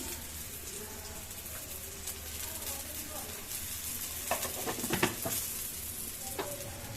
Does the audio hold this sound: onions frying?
yes